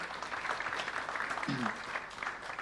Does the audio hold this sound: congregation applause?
yes